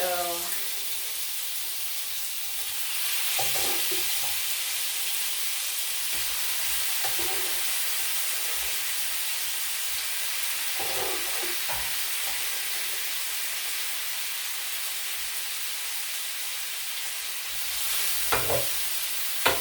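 Bacon being stirred into drained potato dumplings in a pan, with soft scraping and light sizzling over a steady hiss, a few sharper clinks of the utensil near the end.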